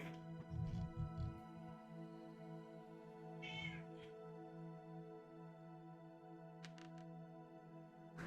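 A pet cat meows once faintly over a steady electrical hum indoors, a brief high call in the middle of otherwise quiet, droning background.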